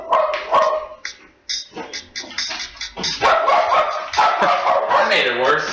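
A dog barks in short, repeated bursts, sometimes loud and close, mixed in with people talking and laughing over one another.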